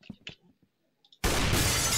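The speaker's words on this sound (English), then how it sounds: "I broke the glass." Glass shatters loudly and abruptly in a video game, a sustained bright crash that follows a few short spoken words and some soft clicks.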